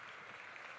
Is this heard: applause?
yes